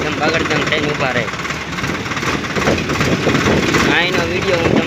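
Swaraj 744 FE tractor engine hauling a full load of sand, a steady, fairly loud diesel chug running throughout with voices talking over it.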